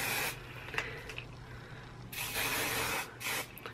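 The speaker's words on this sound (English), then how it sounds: "I'm just gonna spray the curls" Garnier Volumizing Hairspray from an aerosol can sprays onto curled hair in three hissing bursts, a short one first and then two longer ones, close to the microphone with no talking.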